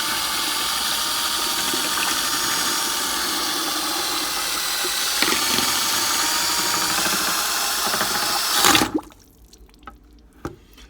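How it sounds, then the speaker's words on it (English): A power mixer churns a bucket of ceramic glaze with a steady whirring, sloshing drone that cuts off near the end, followed by a couple of faint knocks, close and without talk. "I'm going to grab the mixer and give this a good mix here."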